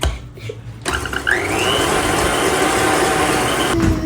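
An electric mixer beats egg whites with sugar at soft-peak stage for a meringue, a steady loud motor whir that starts abruptly after a brief quiet gap and runs evenly, with a slight pitch rise as it speeds up.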